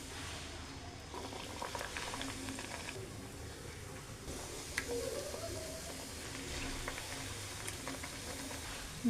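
A piece of luchi, a Bengali puffed flatbread, bubbles and fizzes after being dropped into hot oil. The frying noise is steady, continuous and close, with small crackles scattered through it and no talking.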